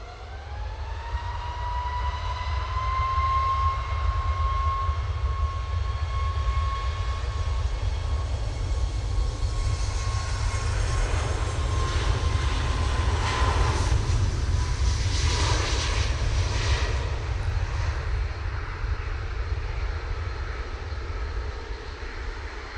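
Ryanair airliner taking off from Manchester Airport for Brussels, a loud, close engine roar with a rising whine that levels off, then broadens into a thick rumbling thrust, continuous and unaccompanied by voices.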